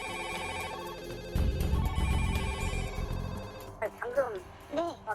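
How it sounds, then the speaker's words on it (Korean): Several telephones ring together at a fire station during an earthquake, layered bell tones repeating densely under a low rumble, then fading as a voice speaks in short bursts near the end. "시흥소방서의 전화기가 동시에 울리기 시작했다"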